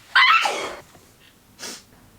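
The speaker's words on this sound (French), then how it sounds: "Je vais éternuer." One sharp human sneeze bursts out close up, followed by a short sniff or breathy exhale a second later.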